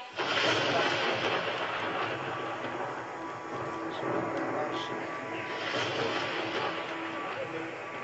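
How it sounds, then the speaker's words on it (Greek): Thunder rumbles steadily through an outdoor theatrical performance at Agia Sotira in Mavromati, a dense rolling roar that stays loud and continuous for the whole stretch with no voices breaking through. "Μη σε φοβίζουν οι βροντές, είναι για εκείνους που ασελούν."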